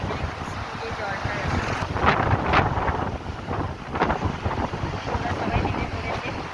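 Fast-flowing water rushes loudly and continuously beside a Himalayan trekking trail on the Gangotri to Gomukh route, a dense broadband roar buffeted by wind on the microphone.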